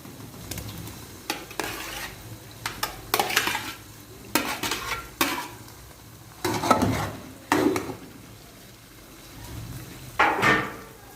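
Pieces of mutton liver frying in a pan with ginger-garlic paste, with a soft sizzle under repeated scrapes and clinks of a spoon stirring against the metal.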